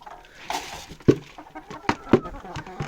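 Backyard rooster and hens cluck in short, sharp bursts close by, with a few louder squawks punctuating softer scattered clucking.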